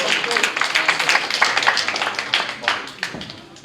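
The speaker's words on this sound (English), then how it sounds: "Feel free to clap." Audience applause at a boxing press conference for a fight card at the SSE Arena: a dense, steady patter of many hands clapping across the room, with a few louder claps standing out, fading toward the end.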